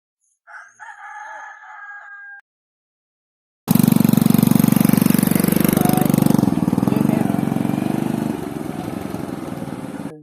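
A rooster crows briefly in the distance, then after a pause a motorcycle engine runs loud and close, a steady rough drone that eases slightly near the end.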